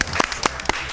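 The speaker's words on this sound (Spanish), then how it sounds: "Le damos un aplauso." Scattered audience claps at an Argentine cultural program, a few sharp hand claps spaced irregularly over a brief moment, fairly close and not very loud.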